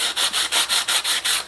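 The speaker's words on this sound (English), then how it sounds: "sanding block or sanding sponge" Sanding block or sponge rubbed along the edges of a playing card for a junk journal craft, giving about eight rhythmic, even back-and-forth scratchy strokes, close and fairly loud.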